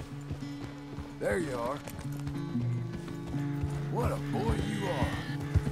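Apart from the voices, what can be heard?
horse hooves and neighing in Red Dead Redemption 2 video game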